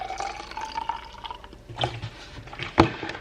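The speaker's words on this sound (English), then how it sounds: "And then I'm gonna top it off with water." Water topping up a machine reservoir already holding white vinegar, heard as a close, brief watery pour with a few drips and a sharp splash near the end, no talking.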